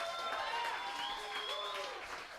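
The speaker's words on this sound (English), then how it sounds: "Let's give a big round of applause once again for Peavey Hollywood." Audience applause and crowd noise at a live rock show in the Peavey Hollywood music store on Sunset, a steady broadband wash of clapping with some voices mixed in, moderately faint and continuous.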